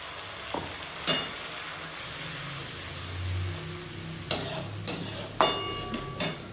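Onion sizzles in a hot pan with ginger, chilli and garlic paste, a steady frying hiss broken by a few sharp spatula scrapes and clinks toward the end.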